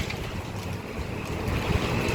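Wind blowing outdoors during dusty, drizzly weather with pinwheels nearby, a steady rushing gust buffeting the microphone, moderately loud and swelling slightly toward the end.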